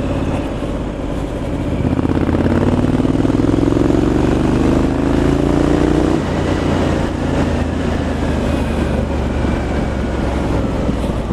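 A 2019 Triumph Street Scrambler 900 motorcycle on the move, its engine droning loudly and rising in pitch as it accelerates, mixed with heavy wind rush on the microphone and no talk.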